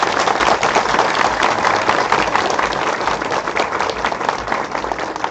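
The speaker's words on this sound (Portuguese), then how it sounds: "Eu peço que todos nós manifestemos agora uma salva de palmas para todos que estão aqui." A loud, dense round of applause from an audience at an interfaith gathering, sustained crowd clapping filling the space without a break.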